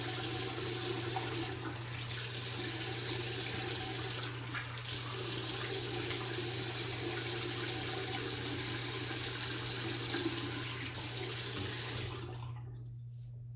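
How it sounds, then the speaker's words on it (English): Running tap water splashes steadily in a sink as the face is rinsed after a shave, a continuous close rush with brief splashy swells before it cuts off near the end. "Let's kind of wash off the face and then we'll check for residual slickness."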